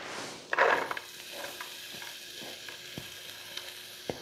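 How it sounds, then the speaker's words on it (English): Chopped onion hits a hot skillet with a brief loud burst, then settles into a steady soft sizzle with light clicks of stirring, close and without voices. "I don't know if you can hear it starting to sizzle."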